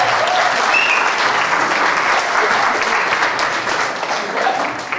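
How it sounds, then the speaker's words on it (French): Steady applause from an audience at a hypnotist's stage show, dense and continuous with no speech over it. "On applaudit Gertrude"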